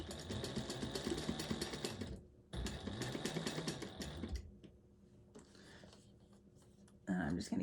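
A sewing machine stitches a 1/4 inch seam in a fast, buzzing run, pauses briefly, runs again, then quiets to softer handling noises before a final short burst.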